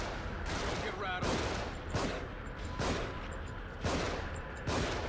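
Repeated gunshots in The Evil Within, sharp bursts cracking out roughly every second over a dense, noisy game soundscape, with a voice speaking at moments between shots.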